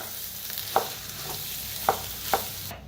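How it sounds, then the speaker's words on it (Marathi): Potato mixture for vada pav stirred in a pan, with three distinct scraping clinks of the spoon against the pan at irregular intervals over a steady background sizzle of frying. "आता ह्याच्यातच टाकूया आपण बटाटो. बटाट्याला एकदा मिक्स करून घेऊया."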